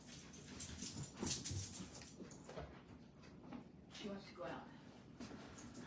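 A pet dog whimpers to be let outside, a few soft whines rising intermittently indoors under ongoing talk and light rustling of craft materials.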